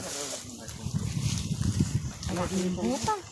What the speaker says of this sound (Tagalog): Ayan naman yung hangin.